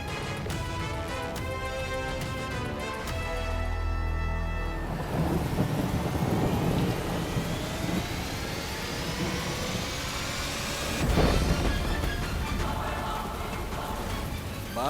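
Heavy rain pours steadily while thunder rumbles and cracks, with one loud roll building near the end.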